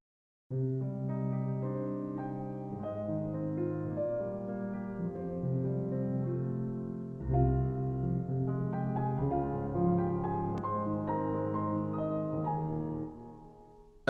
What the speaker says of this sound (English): It's a piano. It sounds like this.